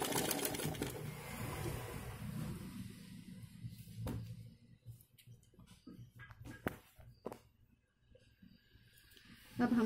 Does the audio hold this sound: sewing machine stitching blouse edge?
yes